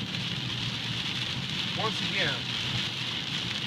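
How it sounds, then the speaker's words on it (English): Moderate, fairly hard rain falls steadily in a constant hiss close to the microphone, with a few faint chirping tones passing briefly in the middle and a voice speaking a couple of words. "It's raining pretty hard. I'd say a real moderate rain."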